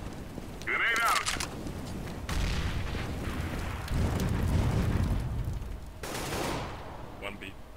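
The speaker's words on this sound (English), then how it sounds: "Grenade out." Grenade blast in the shooter game CS:GO, a broad rumbling boom that rolls on for several seconds amid other gunfire-like bursts, with a player talking over it.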